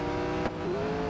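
A McLaren 765LT's engine drones at a steady pitch in the Real Racing 3 mobile racing game, a brief shift in tone marking a gear change, with no voices over it.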